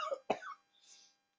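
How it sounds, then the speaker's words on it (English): A woman gives a single quiet cough, with a short breathy exhale trailing after it, close to the microphone. "I'm going to cough"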